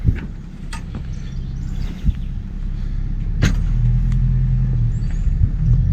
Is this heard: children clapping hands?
no